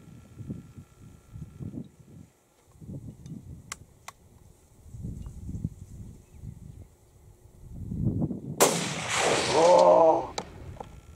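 A single rifle shot at an axis deer on a Hawaii hunt cracks out sharply and close, standing out from quiet outdoor ambience and soft rustling, followed by a stretch of louder broadband noise.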